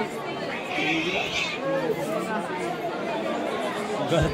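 Dense crowd chatter at the Hinglaj Devi temple during the gondhal festival, a steady close hubbub of many overlapping voices filling the whole stretch without pause.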